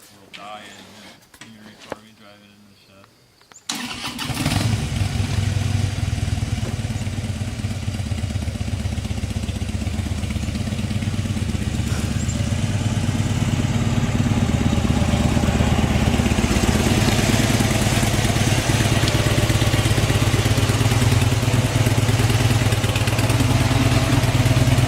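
A Harley motorcycle engine turns over and catches about four seconds in, then settles into a loud, steady, rumbling idle close by that runs on without a break. Softer rustling and handling noises come before the start.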